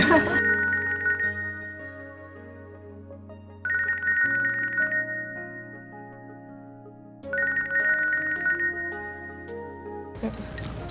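A phone ringtone plays a repeated melodic chime, three bursts in a row at moderate loudness, with a sharp noise at the end.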